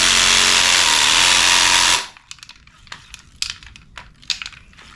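A cordless shaker rattles a can of weld-through primer in a loud, continuous buzzing drone for about two seconds, then cuts off, leaving soft handling clicks and rustles.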